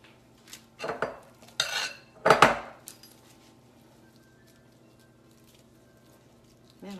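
Spoon and pan clatter while marinara sauce is ladled over spinach lasagna rolls in a baking pan: a few short scraping, clinking bursts in the first three seconds, then near quiet.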